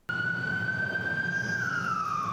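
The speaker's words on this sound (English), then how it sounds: "This ambulance is actually neither overlooked nor overhead." An ambulance siren at a busy crossroad in Thailand: one steady, loud, sustained wail with a slight downward pitch glide near the end, close by over traffic rumble.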